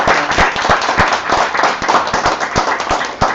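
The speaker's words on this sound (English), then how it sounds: "can we have a big round of applause for Madam Neha Kukreti?" Seated attendees at a live GDPI session give Madam Neha Kukreti, an MBA program director, a round of applause, a quick string of fairly loud, close hand claps at a brisk, slightly uneven pace.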